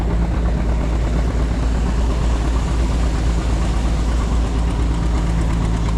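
An antique John Deere H tractor engine idles steadily and loudly up close at a threshing bee, a continuous low rumbling drone with no talk over it.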